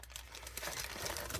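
A plastic bag of AMT Creepy T model kit parts crinkles softly and close by, a brief rustle with no voice over it.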